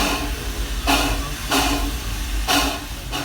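Short bursts of pneumatic hissing from the Serengeti Flyer ride train at its station in Busch Gardens Tampa, four releases over a steady background hum.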